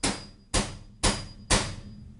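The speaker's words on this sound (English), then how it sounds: "make sure you hit the punch, not your hand, because that hurts" A hammer strikes a punch on a rivet during a bus conversion, four sharp evenly spaced metallic blows about half a second apart, close and fairly loud, each ringing briefly before the next.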